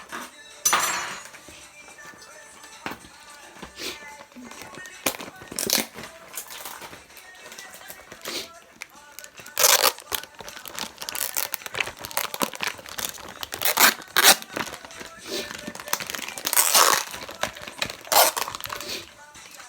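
A plastic package of prawns being cut open in a home kitchen, giving irregular crinkling, snipping and rustling bursts that come close and fairly loud across the clip.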